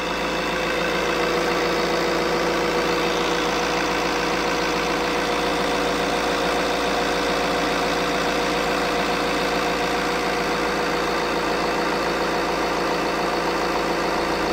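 A brand-new Fiat 1.6 Multijet diesel engine idles steadily and close by, a continuous even drone with faint knocking texture, running alone without talk for the whole stretch.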